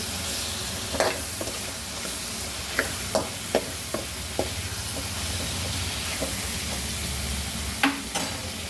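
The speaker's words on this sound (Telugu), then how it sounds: "మెత్తాలను బాగా వేపుకుంటానండి" Snails frying in a pan for curry, with a continuous loud sizzle broken by sharp scraping knocks as a spoon stirs them every second or so.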